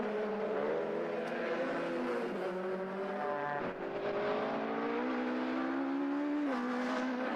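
Modified Ford Escort race car at Oulton Park, engine note climbing and falling through gears as power comes on out of a corner, a loud continuous close-up roar with other circuit traffic, no talk.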